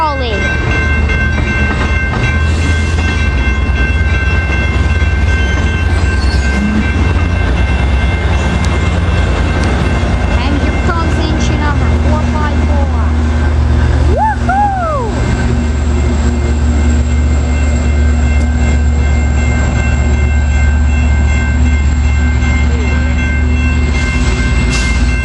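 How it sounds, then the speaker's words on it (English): San Diego Green Line Trolley rolling past close by, a loud sustained rumble with rail squeal and a short horn-like tone midway. "Here comes the Green Line Trolley."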